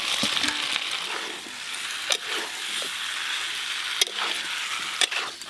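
Fried potatoes go into spice masala sizzling in oil while cooking aloo dum, giving a steady close frying hiss broken by a few sharp clinks and scrapes of stirring.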